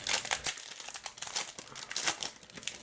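Crisp crinkling and tearing of a foil Pokémon card booster pack wrapper being opened, close and continuous for a few seconds with no voices.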